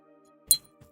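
Two metal dog tags clink together: a brief, bright metallic clink followed by a softer second tap, faint and close.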